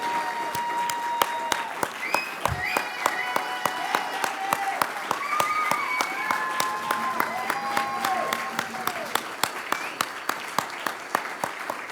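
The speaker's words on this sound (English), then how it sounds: "would you guys like to give the finalists one more round of applause" Sustained applause from a large audience for finalists at a University of Baltimore live event, steady and loud throughout, with individual claps standing out over the crowd.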